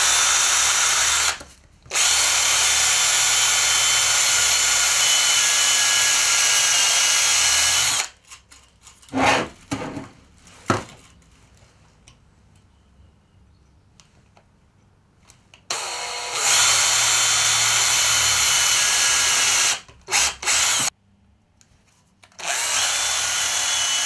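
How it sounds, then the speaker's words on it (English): Power drill driving a screw into a wooden broom head while building a boot scraper, loud close whirring in two long runs with short stops and bursts, a quieter pause of handling noise between them. "keep the drill going dead straight through here into the base of this other broom head, that's going to lock it in position"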